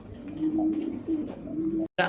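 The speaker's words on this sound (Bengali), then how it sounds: "আরেক পেয়ার ধামাচিন অস্থির একটা লেভেলের কবুতর এটা" Close, low coos from fancy pigeons repeat in soft rolling phrases, followed by a short burst of sound at the end.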